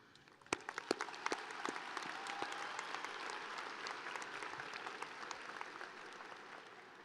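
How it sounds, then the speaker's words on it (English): A graduation audience in an arena applauding families at the Arbor View High School 2024 ceremony, with dense, sustained clapping from a large crowd that starts with a few sharp claps and fills the hall, somewhat distant. "you deserve a round of applause"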